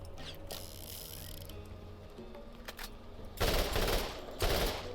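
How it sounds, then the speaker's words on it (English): An assault rifle firing in the video game Borderlands, preceded by mechanical clicking and weapon handling, then two loud bursts of rapid fire near the end. "I'll try out the assault rifle."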